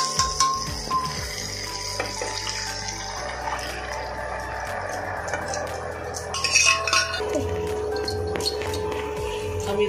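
Boiled chickpeas and potatoes poured with their water into frying masala for aloo chana sabji, giving clinks of utensils against the pan over a steady close sizzle and bubbling.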